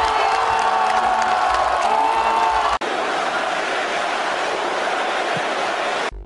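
Football fans in Kharkiv cheer goals by Ukraine's national team, a dense, loud crowd roar with whoops and shouts that cuts abruptly partway through to another sustained wall of crowd noise.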